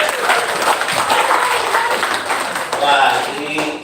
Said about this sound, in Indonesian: Kita tepuk tangan untuk penanya ini